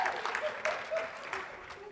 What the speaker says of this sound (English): Let's give our actors and volunteers a round of applause.